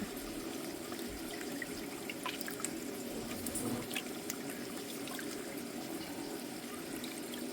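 Pieces of fish are dropped into a bowl of water for a fish curry, with soft trickling and small drips over a steady low background, faint and without speech.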